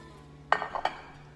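A metal baking pan picked up in a home kitchen, giving a few quick clanks and clinks, close and fairly soft, against a quiet background.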